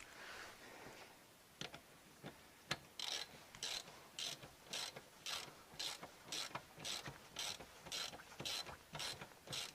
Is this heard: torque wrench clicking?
yes